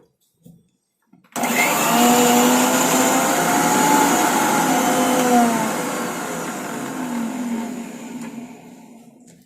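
A mixer grinder crushes herbs for homemade hair oil, starting abruptly after a short pause with a loud, steady motor whir and grinding that runs for about eight seconds and eases off slightly toward the end.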